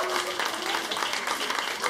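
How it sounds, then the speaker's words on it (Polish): Applause for a guest at a stand-up comedy show, a dense patter of clapping from the crowd lasting the whole moment, moderately loud, with faint voices mixed in. "dajcie mu brawa"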